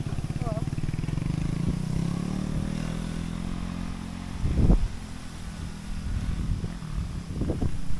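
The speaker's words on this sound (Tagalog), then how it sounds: "May motor dito, ayan." A motorcycle engine rumbles steadily nearby, with brief louder revving bursts, while people talk over it outdoors.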